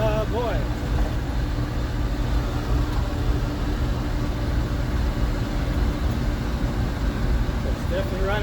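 The engine of a 1966 Ford F500 bucket truck runs at a steady idle, a low continuous rumble with no clear revs or pauses.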